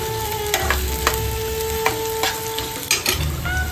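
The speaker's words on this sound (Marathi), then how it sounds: "चला तेल गरम गरम झाल्या झाल्या लगेच कांदा करपवायला सुरुवात केली." Chopped onion sizzles in hot oil in a pan, a steady close frying hiss broken by clinks and scrapes of stirring, with no voices.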